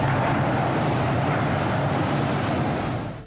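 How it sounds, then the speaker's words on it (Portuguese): Rushing floodwater of the Madeira River pounding against a metal railway structure, heard as a steady, loud, dense roar that holds without letup and eases slightly at the end. "é da correnteza batendo contra a estrutura de metal."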